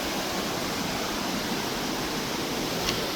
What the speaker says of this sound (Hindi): हम लोग चलते चलते एक ब्यूटीफुल सा वाटरफॉल की तरफ आ चुके हैं।